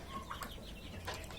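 A 16-month-old blue Dutch rooster clucks in brief, faint bursts against a low farm background.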